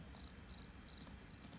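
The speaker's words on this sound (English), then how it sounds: "I have grasshoppers and I can adjust the level here and the panning" Grasshoppers chirp in four short, evenly spaced high trills over a quiet hiss, faint and steady like a field at dusk; a sound effect from a music production plugin.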